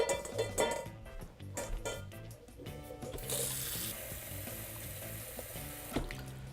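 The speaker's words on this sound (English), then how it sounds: "Cover with cold water" Cold tap water runs steadily into a saucepan holding a few eggs, a close, continuous splashing and gurgling stream with faint clinks of the pan, rising to a brighter rushing hiss partway through as the pot fills.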